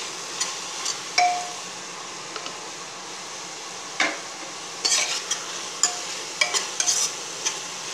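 Tomatoes sauté with turmeric powder in a pan for Tamil tomato rice, giving a soft steady sizzle broken by intermittent scrapes and clinks of a spoon stirring against the pan.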